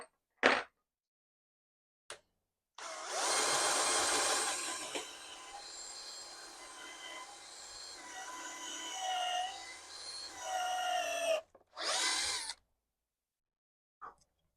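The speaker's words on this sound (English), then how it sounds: "I'll drill the holes first." A power drill whirs continuously for several seconds while drilling holes in a propeller blank, its pitch shifting as it bites into material, bracketed by short clicks and knocks before and after.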